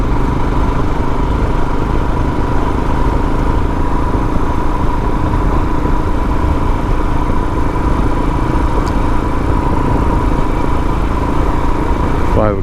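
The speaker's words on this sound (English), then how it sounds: "just to run the bike at a little higher speed for a short period of time" Steady, loud engine drone of a Royal Enfield Himalayan motorcycle riding at higher speed on the road, with wind rush, continuous and unbroken for the whole stretch.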